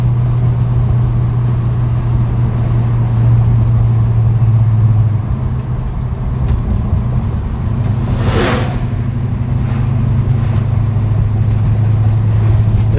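A 1955 Chevrolet Bel Air on the road, its engine a steady low drone with a loud, continuous rumble throughout and a brief passing whoosh midway, no voices.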